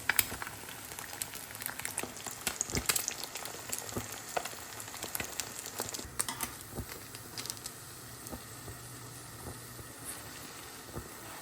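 Egg frying in oil in a home kitchen alongside paratha, a steady soft sizzle and crackle with scattered pops throughout, close and moderately quiet, with no talking.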